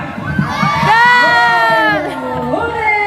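Children in a crowd shout and whoop together as if cheering a goal in a football match, a loud rising group cry with a few lingering voices.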